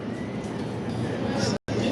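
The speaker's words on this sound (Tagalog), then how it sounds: "Yan, ang tren." A train rumbles past nearby in Italy, a steady broad roar with muffled voices from a juice bar in the background, cut by a brief dropout near the end.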